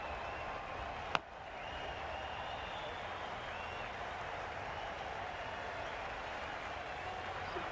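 A cricket video game crowd applauds a batsman in an ODI match between India and South Africa, with a sharp click near the start and then steady, distant clapping that continues evenly throughout.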